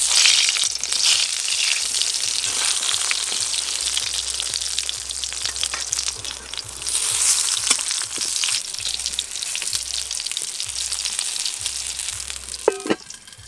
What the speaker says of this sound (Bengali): সব বেগুনগুলো ভালো করে ভাজা হয়ে গেছে,